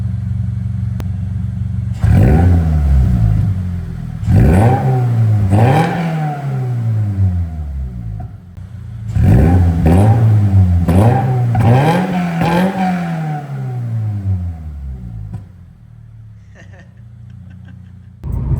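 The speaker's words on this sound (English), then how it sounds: "we're gonna give it a couple revs" A 2024 Toyota GR86 with a Borla S-Type exhaust revs sharply several times close by, each rev climbing and dropping back through the exhaust, then falls back to a quieter idle.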